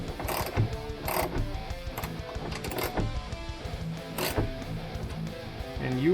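Ratchet tightening the bolts of a hood hinge LED light bracket on a 2019–2021 Chevy Silverado 1500, a close series of rapid clicking bursts in short repeated strokes with metallic mechanical rattle, no talk.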